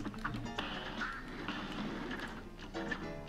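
Ducks from the Cuphead video game quack repeatedly in quick bursts over busy game sounds and background music, moderately loud throughout.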